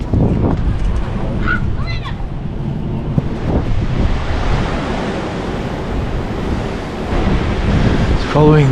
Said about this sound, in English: So this must be Newcastle Beach, as it says Newcastle Beach.